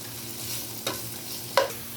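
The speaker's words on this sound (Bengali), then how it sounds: "আর এই যে কেটে রাখছিলাম পেঁয়াজটা দিব। দিয়ে আমি এটা বাগারের জন্য রেডি করব।" Sliced onion fries in hot oil for a baghar tempering for thin khichuri, with a steady low sizzle broken by two sharp stirring scrapes against the pan, heard close with no talk.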